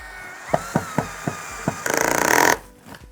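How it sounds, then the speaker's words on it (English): A few sharp wooden taps are followed by a power drill with an extension whirring briefly as it drives a screw into the base of a Vacuflush toilet, then stopping. "the drill does make it easier if you do use an extension"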